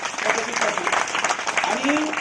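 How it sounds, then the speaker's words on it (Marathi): Vigorous applause from a village audience at a Hanuman Jayanti lecture gathering, a continuous close roar of clapping with a few voices mixed in. "एकदा जोरदार टाळ्या"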